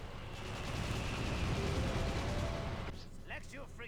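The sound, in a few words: artillery fire from an artillery unit in the video game Battalion Wars 2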